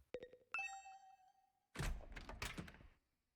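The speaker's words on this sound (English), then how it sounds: "The usual morning announcement was drowned out by the sound of my doorbell ringing over and over." Doorbell in the video game Hundred Line: Last Defense Academy chimes twice in quick succession, bright ringing tones with a sustained tail, followed by a burst of busy clattering game sound.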